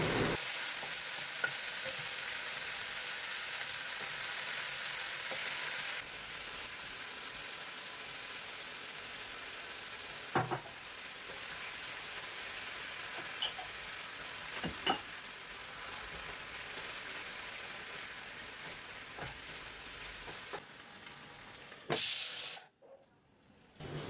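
Chicken coated in teriyaki stir-fry sauce sizzles steadily in a hot pan, a continuous close frying hiss broken by a few brief utensil clicks, with no talking.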